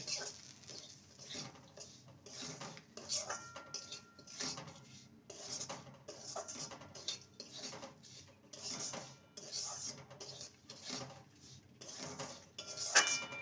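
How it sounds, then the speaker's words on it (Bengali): Semolina is stirred with a bay leaf as it dry-roasts in a pan. A spoon scrapes and clinks against the metal in irregular, soft strokes, fairly faint and close, with no talking. "এবারে এক কাপ সুজি দিয়ে দেব সুজিটাকে ভালো করে ভেজে নেব"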